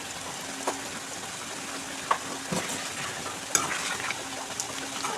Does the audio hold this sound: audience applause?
no